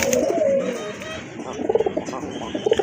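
A Rajgolla pigeon coos close by in soft, repeated throaty pulses, with a brief low vocal sound at the start.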